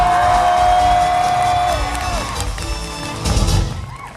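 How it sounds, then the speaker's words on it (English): A crowd at an animal show featuring dogs, cats and parrots cheers, whoops and shouts loudly for dog team Team Jonah, a sustained roar with a whistle-like tone early and a fresh swell near the end. "Let's hear it for Team Jonah!"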